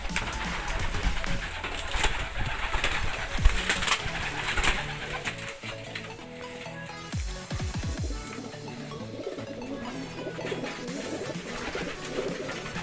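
Homing pigeons just returned from a training release coo and flutter amid a busy, noisy backdrop of birds, with a few thumps and handling noises; the cooing is steady but partly buried.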